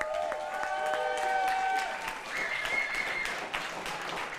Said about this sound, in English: can we get a round of applause for Clara